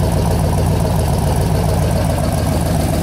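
A 1965–67 Corvette Stingray's 365 hp small block idles through side exhaust, a loud, steady low rumble that holds throughout with no talk over it.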